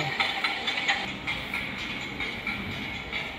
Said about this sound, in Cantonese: 開火車聲就係咁啊，原來